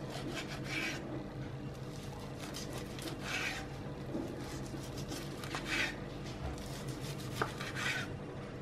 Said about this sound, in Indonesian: Setelah digoreng dipotong-potong.